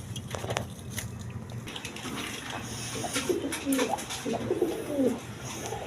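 Pigeons in a loft coo in soft repeated rolling calls, clearest toward the end, over a steady low background hum and scattered light taps.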